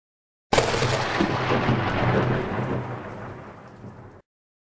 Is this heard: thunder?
yes